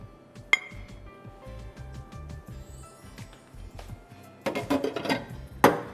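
Dishes clink while being washed by hand in a home kitchen: sharp, scattered glass and metal chinks, quiet and near, growing busier and louder toward the end.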